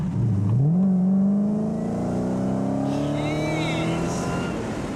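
A Dodge Challenger Hellcat Redeye muscle car engine revs up and accelerates, its deep tone climbing steadily in pitch and holding loud, close and alone for several seconds.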